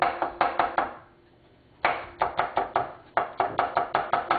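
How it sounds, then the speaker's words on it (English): A knife chops garlic on a board in quick bursts of sharp, close knocks, with a brief pause in the middle before the rapid chopping starts again. No talking. "So you take the rest of the garlic, we're going to chop them up."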